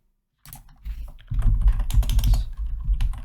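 Code being typed on a computer keyboard, a close, busy stream of key clicks starting after a short silence and growing denser, with no voice.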